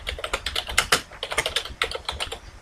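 Quick bursts of keystrokes on a computer keyboard, close and clear, in an irregular rapid rhythm with short pauses and no talking.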